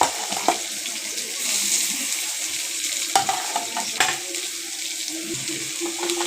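Chopped onions, four large ones, tipped into hot oil with chilli and curry leaves for an egg dish, frying with a steady hiss and a few scraping stirs and clatters.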